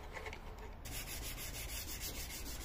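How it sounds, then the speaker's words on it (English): Steady abrasive rubbing of sandpaper on a wooden shelf during final sanding, a continuous close scratchy hiss that brightens after the first second and keeps an even back-and-forth texture throughout. "Final sanding, and this was ready for some oil"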